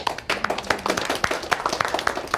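A small group claps in scattered, uneven strokes, and the distinct hand smacks stay crisp and fairly near throughout.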